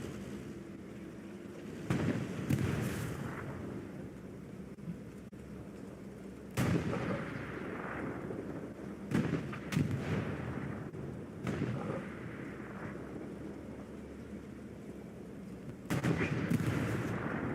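Gunfire and artillery-like blasts in the WWII video game Hell Let Loose during a competitive tournament match, with heavy booming shots at irregular intervals over a constant rumbling battlefield background.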